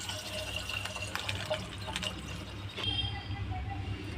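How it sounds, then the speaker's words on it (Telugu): A glass of water is poured into a pot holding half a litre of milk for jaggery payasam, making a continuous splashing fill at close range, with a low hum underneath. "ఒక 1/2 లీటర్ పాలు తీసుకున్నాం కదా, ఒక గ్లాసు నీళ్లు కూడా పోస్తున్నాను"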